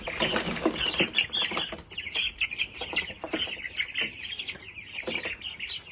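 Several roosters cluck and squawk close by in a busy, continuous run of calls, with occasional wing flapping, while the birds are put on a scale to be weighed at fifteen days old.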